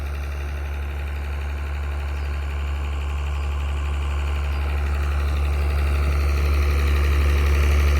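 An engine-driven pump drains water from a pond being dug, giving a steady loud diesel drone that slowly grows slightly louder, heard alone.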